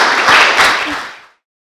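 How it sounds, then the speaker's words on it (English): An audience at a visiting scholar lecture gives a short, full round of applause for the speaker, a dense burst of clapping that swells briefly and then fades out quickly into silence. "please give Dr. Alison Holmes a round of applause"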